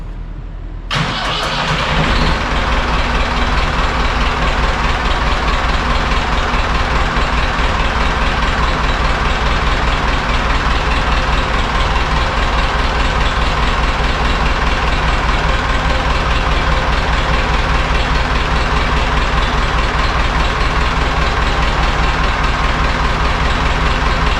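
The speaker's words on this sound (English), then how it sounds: "we're going to go ahead and start the tractor and rotate the wheels" A Ford 5600 tractor engine cranks and catches within the first seconds, then runs on at a loud, steady idle with a constant low rumble for the rest of the clip, with no talk.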